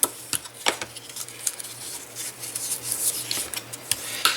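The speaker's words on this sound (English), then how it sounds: "And then just fold it and burnish." Burnishing a folded paper crease for a pocket mini album makes close, brisk scraping and rubbing strokes with small clicks, repeated steadily over a faint background hum.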